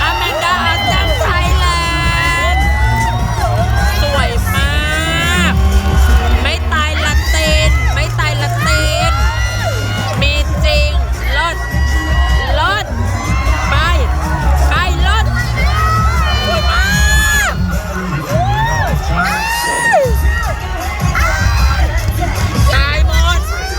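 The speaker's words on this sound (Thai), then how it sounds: "ในฮอก็มีการตะโกนกันตลอดเวลา ก็คือแบบกองเชียร์คือไม่หยุด" Fans crowd the hall at the Miss Universe 2020 pageant, shouting and cheering continuously in a loud, dense roar of voices, with whoops and high cries rising over steady babble throughout.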